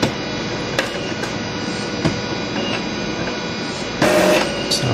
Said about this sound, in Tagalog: Mag-reset na yung printer.